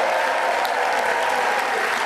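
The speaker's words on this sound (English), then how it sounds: "Just cheer." Audience at a motivational talk cheers and applauds to vote for the best cheerleader, a dense, steady roar of clapping and voices filling the room without pause.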